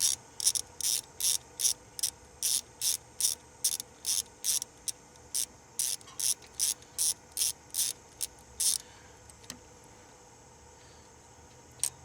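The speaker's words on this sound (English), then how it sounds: "Once you loosen those, just loosen that bolt." A ratchet wrench loosening a rocker arm bolt during a Grand Am engine teardown, a rapid run of evenly spaced clicking bursts, close and clear, pausing briefly near the end.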